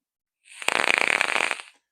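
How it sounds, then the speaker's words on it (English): A freshly dripped vape coil crackles and sizzles as it fires, a rapid burst of popping lasting just over a second, close and fairly loud, then silence. "there is a nice bit of crackle there."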